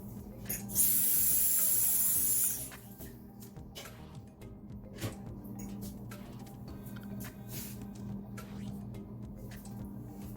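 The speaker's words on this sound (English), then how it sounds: "And I'm gonna wash the ginger." Ginger washed under a running kitchen tap while making lemongrass ginger tea: a loud steady hiss of water lasts about two seconds, then gives way to quieter handling noises and faint kitchen background.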